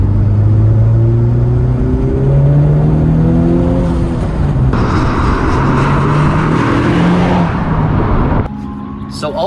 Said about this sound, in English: I have it in R mode, just for fun. Let's give it a little rip.